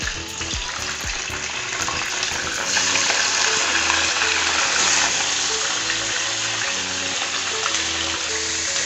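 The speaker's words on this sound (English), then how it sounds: "In the other pan we'll be frying our chicken." Steady, loud sizzling of chicken frying in a hot pan, a continuous crackling hiss with a few knocks and clatters near the start.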